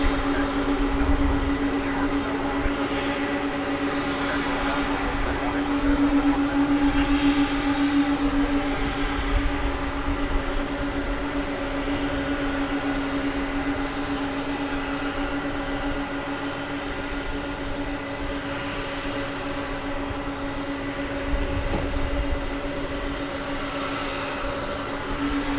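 An airliner departing DFW Airport for Philadelphia produces a loud, sustained engine roar with a steady whining tone running through it, holding strong from start to finish with no voices.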